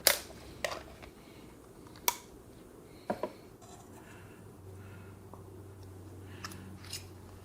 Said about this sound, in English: cut that filter open, see what kind of stuff is in a fresh break-in motor